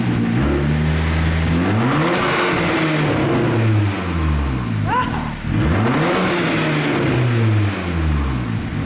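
A tuned turbocharged car engine revs hard twice, rising and falling in pitch with a throaty roar, loud and close, with a brief turbo whoosh between revs.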